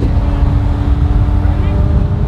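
McLaren 720S with a Frequency Intelligence exhaust and an M Engineering tune, a steady deep engine drone held close and loud for the whole stretch, with wind buffeting over it.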